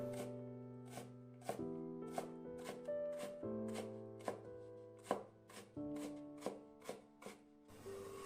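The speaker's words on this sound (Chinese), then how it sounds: "再改刀切成细丝， 最后切成胡萝卜丁。" A knife dices carrot on a cutting board in a series of crisp, close chops at an uneven rhythm, with soft background music playing underneath.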